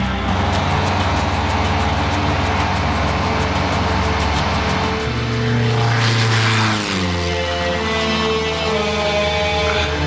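A propeller airplane's engine drones loudly and continuously, its tone shifting midway as the aircraft passes, with a rising whine then steadier hum afterward.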